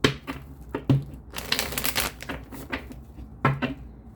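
Tarot cards being shuffled by hand, heard as quiet, close riffling and slapping bursts that come in irregular clusters with short pauses between them.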